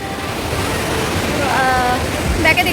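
Water waves wash in with a steady broadband surge, close and fairly loud, with wind noise over the microphone and a few brief high tones near the end.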